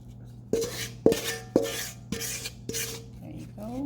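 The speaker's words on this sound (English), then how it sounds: "we're just transferring our rhubarb mix into our pie plate lined with a pie shell" Rhubarb pie filling is scraped from a bowl into a pie plate lined with a store-bought pie shell. About five distinct clanks and scrapes of a utensil against dishware sound close and fairly soft, with quiet pauses between.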